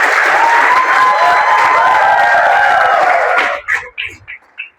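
Loud, dense applause from an audience at a talk fills the first three and a half seconds, then breaks off into a few scattered, fading claps.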